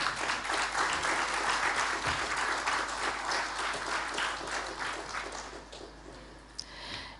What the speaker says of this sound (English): join in this candid moment with a round of applause from all of you